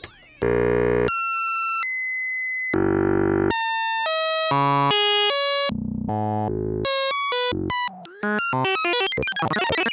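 Synthesizer tone sequenced with random voltage on its frequency, jumping abruptly between harsh buzzy pitches in a fast, irregular stepped pattern, loud and alone with brief silences between some notes.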